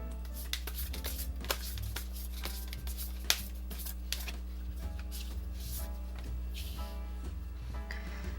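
Tarot cards are shuffled by hand in a steady run of soft papery riffles and slaps, close and continuous, over a constant low background hum.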